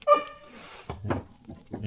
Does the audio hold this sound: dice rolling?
no